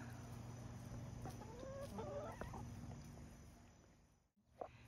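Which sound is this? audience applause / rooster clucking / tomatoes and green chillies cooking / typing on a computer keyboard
rooster clucking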